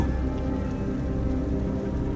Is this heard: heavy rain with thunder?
yes